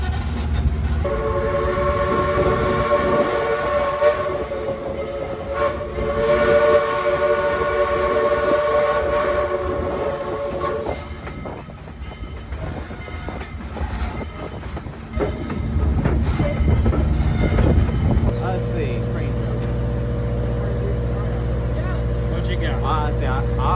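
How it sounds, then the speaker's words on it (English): Southern Railway 630, a steam locomotive at East Chattanooga during the Tennessee Valley Railroad Museum's 60th anniversary, sounds its whistle in long tonal blasts over a heavy, close rumble of the train, with a sharper horn-like tone near the end. "Southern Railway 630 came back to East Chattanooga for the night"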